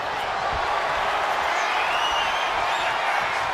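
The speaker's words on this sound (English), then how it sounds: "What a raucous crowd." A loud, raucous arena crowd roars and cheers steadily at a WWE 2K25 wrestling match, a dense unbroken wall of noise with a few whoops rising above it.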